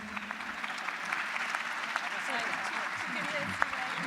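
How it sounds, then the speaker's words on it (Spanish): An audience at the closing of a congress gives sustained applause, a steady, fairly faint patter of many hands clapping throughout, with a voice talking underneath. "les pido un fuerte aplauso a ustedes"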